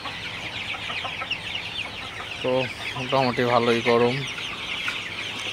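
Sonali super hybrid chickens, 42 days old, in a poultry shed at midday heat of 95°F, let out a short run of several close, loud clucks over a steady background murmur, with someone talking nearby.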